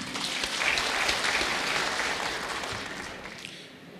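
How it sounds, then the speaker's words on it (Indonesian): An audience applauds steadily at a 2018 Prabumulih mayoral and deputy mayoral election debate, a dense roomful of clapping that carries for several seconds before slowly thinning out. "Silakan tepuk tangan."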